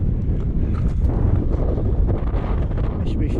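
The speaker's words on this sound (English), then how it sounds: "Wind very strong up here." Strong wind buffeting the microphone on the mountain ridge of Y Lliwedd, a loud, steady roar and rumble with gusty fluctuations throughout, no voices.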